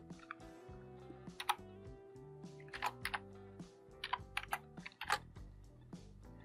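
A few sharp computer keyboard key presses, including a save shortcut and a refresh key, click out singly over steady background music with sustained tones.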